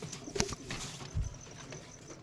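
Rajshahi Giribaz pigeons give faint, low coos at close range, with a soft thump or wing rustle partway through and a quiet noisy background.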